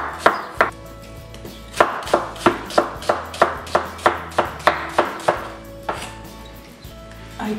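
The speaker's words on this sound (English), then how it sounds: "I cut several pieces of meat to put inside." A knife chops beef into pieces on a cutting board in a home kitchen, a quick run of about fifteen sharp, evenly spaced knocks, close and distinct, that slows near the end.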